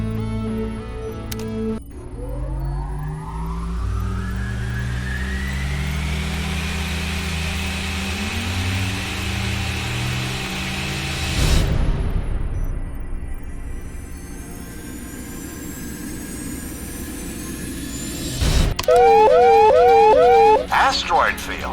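Warp jump in the Full Flight VR game: a rising synthetic whoosh sweeps upward for several seconds, then drops into a sharp falling burst, followed by a trailing hum and a flurry of electronic chirps, with a voice speaking in places.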